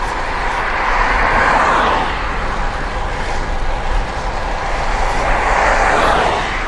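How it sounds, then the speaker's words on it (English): A car doing about 50 on a 35-mile-an-hour road rushes past a cyclist, a loud broad whoosh with steady wind roar that swells and fades, then a second pass builds near the end. "somebody coming in the other direction, like this guy, doing 50 on a 35-mile-an-hour road"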